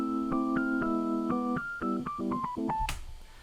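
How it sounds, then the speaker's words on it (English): Old-school electric piano patch in Ableton Live 11 playing a MIDI clip, warm rounded chords with a stepping melody on top at a steady pace, close and alone, ending in a brief click and noise. "Or E piano old school."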